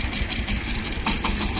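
A Shifeng 240 mini tractor engine runs steadily while pulling a rotary tiller through a garden plot, giving a continuous mid-low drone with slight rhythmic vibration and no talk.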